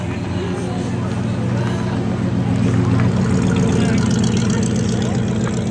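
At a Friday night car cruise, a muscle car engine rumbles past close by with a deep, throaty burble that swells and stays loud through the whole stretch, with people talking underneath.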